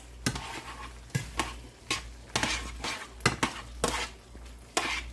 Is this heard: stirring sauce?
yes